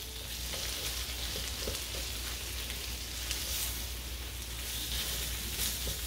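Onion fries in an electric pan, giving a dense, even sizzle that stays loud and close from start to finish, with a few faint stirring knocks and no talking.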